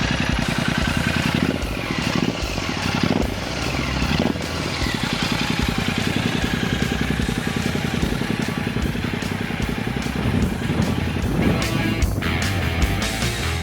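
A 650 cc Royal Enfield Classic 650 motorcycle is revved repeatedly. Its dense, loud engine throb rises and falls over a continuous rumble, with no talking.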